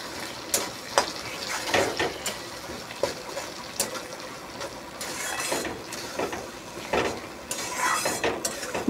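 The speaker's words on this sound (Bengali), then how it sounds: "এবার আমি নেড়ে চেড়ে নেব।" Ivy gourd paste and vegetables are stirred in a wok with repeated scraping and knocking of a spatula over a continuous low sizzle, close and fairly loud, in irregular bursts.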